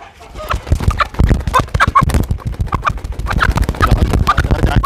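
A flock of chickens, one with paler feathers, clucks loudly and busily with rapid, overlapping calls close by.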